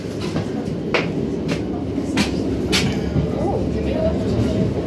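Steady low rumble inside a Class 156 diesel multiple unit train while riding, with faint rhythmic clicks and rattles over the constant engine drone.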